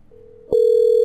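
A telephone ringback tone sounds on an outgoing call to a phone number set up with a Twilio Studio greeting flow: a faint steady tone, then a loud sustained electronic tone after a short click, continuing unbroken with no voices.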